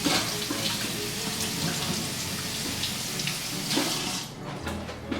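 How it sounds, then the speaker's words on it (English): Cold tap water runs steadily into a kitchen sink while vegetables are rubbed and rinsed under the stream, a close continuous splashing that shifts slightly as the produce moves, with no talk. "Just use some cold water or warm and just rub it vigorously around all sides"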